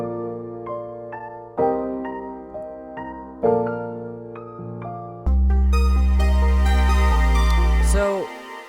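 Synth loop built in FL Studio, with plucky synth notes over a steady bass line before a loud sustained chord swell takes over near the end, then cuts off abruptly.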